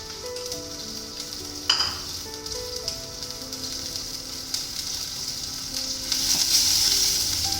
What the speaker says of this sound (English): We'll saute everything together in the butter.